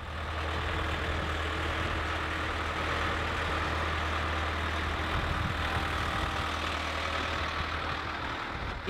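A two-wheel-drive 62-horsepower tractor weighing 7,000 pounds idles steadily with a low, even diesel rumble, moderately close and unchanging throughout, with no voices.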